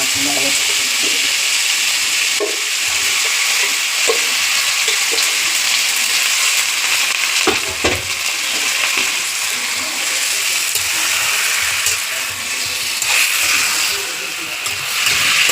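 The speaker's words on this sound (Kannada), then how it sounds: "ಚಿಕನ್ನ ಹುರ್ಕೊಳ್ಳೋಣ." Chicken sizzles and fries loudly in a hot pan while being stirred, with a steady close hiss, scraping and clinking of the spoon throughout, and some brief speech in the background.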